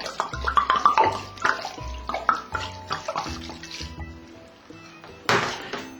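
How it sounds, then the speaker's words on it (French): White wine pours into a pot of tripe, carrots and leeks for tripes à la mode de Caen, a close, uneven gurgling splash with a few knocks, ending in a brief louder splash. "Je vais mettre mon vin blanc."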